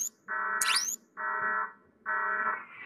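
An alarm blares in the shooter game Project IGI: three loud, steady electronic tones repeat with short gaps, and a brief rising whistle-like sweep overlaps the first tone.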